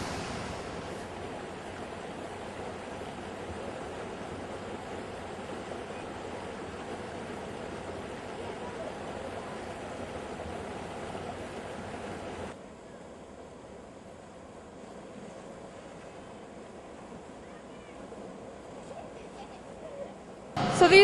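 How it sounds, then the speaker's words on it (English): Water churned into waves by an air-driven wave system in a lazy river, a steady rushing wash of surf that drops to a quieter level midway and holds until a sharp noise at the very end. "it pushes air through pipes that pushes the water to create the waves in the lazy river."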